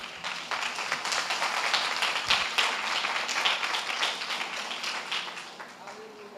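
A church congregation stands and applauds in a dense, sustained wash of clapping that holds steady for several seconds before easing slightly, with voices mixed in underneath.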